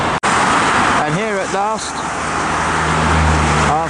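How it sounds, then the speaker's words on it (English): Motorway traffic on the M11 on a rainy Saturday afternoon, a constant wet roar of tyres on the road with a vehicle swelling louder near the end, while someone speaks briefly over it. "There we are, traffic on a rainy Saturday afternoon."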